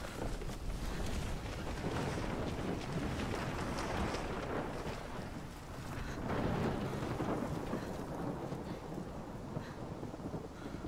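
Steady thunderstorm from the game Life is Strange, set in Oregon: continuous heavy rain with rumbling thunder swelling around the middle, loud and enveloping throughout with no talking.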